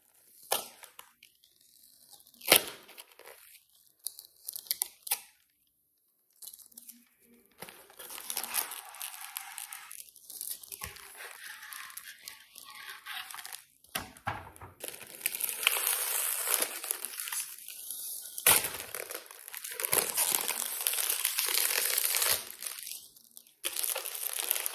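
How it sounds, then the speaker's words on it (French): Plastic packaging around turrón being torn and opened, loud crinkling and crunching rustles in irregular bursts with short quiet gaps, close up and heard alone. "je vais tout de suite ouvrir le paquet avec vous"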